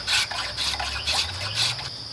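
A spokeshave shaves down a wooden chair spindle in four even, rhythmic strokes, each a crisp, close rasping swish with brief pauses between passes.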